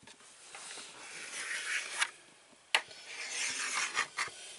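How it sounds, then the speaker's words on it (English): A pencil rasps and scratches across a wooden RV closet shelf in short strokes, with a couple of sharp taps between the scraping. "Is that pencil actually marking?"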